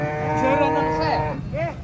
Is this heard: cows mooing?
yes